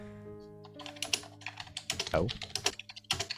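Keys clatter on a computer keyboard in quick, uneven bursts of close, crisp clicks, with a brief voice exclamation among them.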